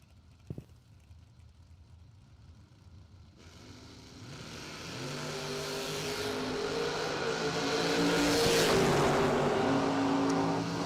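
A Chevy Beretta at a drag strip launches and builds into a rising engine roar, swelling louder as it passes, following a quiet stretch and a brief knock.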